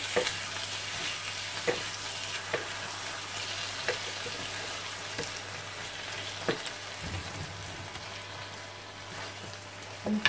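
Cabbage and cream being stirred together in a pan, heard as a quiet, steady sizzle broken by soft, regularly spaced scrapes and taps of the spoon against the pan.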